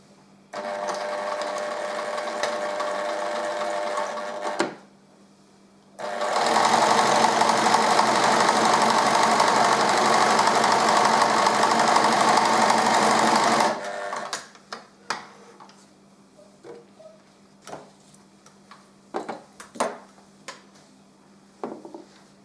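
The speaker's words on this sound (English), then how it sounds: "and then we're going to sew." Sewing machine running a straight stitch to attach bias binding to fabric for a hem, a steady loud whir held for about eight seconds after a shorter burst, then quiet handling clicks.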